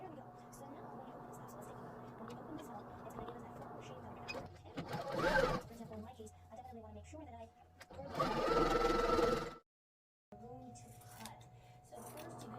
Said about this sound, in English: just sew along the edge of the strip